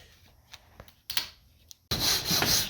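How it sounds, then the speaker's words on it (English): Sandpaper rubs across the trimmed edges of a fiberglass epoxy layup in a few short, scattered scrapes, then one longer, louder continuous sanding stroke close by at the end. "After I cut all that hair and everything of the loose glass pieces, I'm just sanding it"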